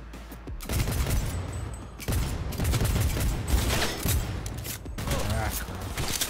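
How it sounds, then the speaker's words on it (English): Rapid gunfire in Cyberpunk 2077 during a heist shootout, repeated loud bursts of shots in clusters over several seconds, with a player's voice talking intermittently over the firing. "Who else is shooting me?"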